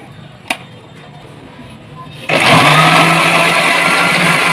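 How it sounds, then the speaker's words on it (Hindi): A mixer grinder blending peeled tomatoes into paste kicks on abruptly after a brief click, then runs as a loud, steady whirring roar to the end. "अब जी हम इनको मिक्सी में डालकर पेस्ट बना लेंगे इनका"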